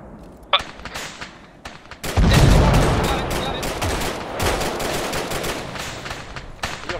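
Gunfire in the military video game ArmA 3, a sharp crack followed by heavy bursts of automatic fire and rumbling blasts that keep up at a loud level, with voices talking underneath at times.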